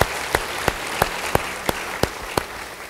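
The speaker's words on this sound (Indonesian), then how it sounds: "Beri tepuk tangan pada Allah Roh Kudus" A church congregation clapping together in a slow, even rhythm, eight or so sharp unison claps spaced about a third of a second apart over a low room background.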